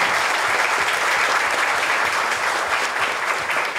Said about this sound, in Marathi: आता खरंच खूप जोरदार टाळ्या झाल्या पाहिजे त्याच्यासाठी.